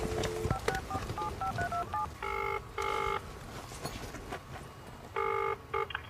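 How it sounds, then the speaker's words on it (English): A telephone is dialled for a call: a quick run of short keypad tones, then several longer beeping tone bursts, all over faint background noise with no speech. "make the phone call to Billy and set him up"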